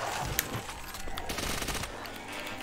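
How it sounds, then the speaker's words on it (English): An MP40 submachine gun fires in COD Zombies played in VR, a rapid rattle of shots at moderate level with one sharper crack early on. "Shoot the gun."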